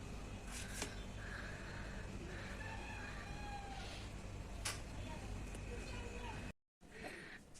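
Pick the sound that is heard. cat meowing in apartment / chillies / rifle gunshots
cat meowing in apartment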